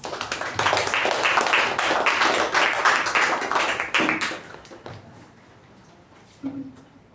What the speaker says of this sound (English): So let us give a round of applause for all of us.